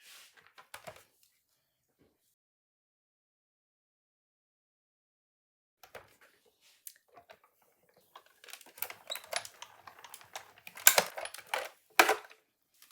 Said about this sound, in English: We're going to bring in our Big Shot.